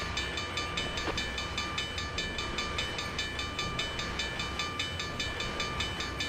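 Train running at track speed in the Trainz video game, a steady continuous rumble of rolling equipment with a brief sharper accent early on, no talk over it.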